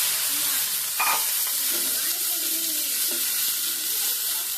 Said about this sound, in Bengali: ফুলকপি দিয়ে ফুলকপি থেকে মশলাটাকে আমি ভেজে নেব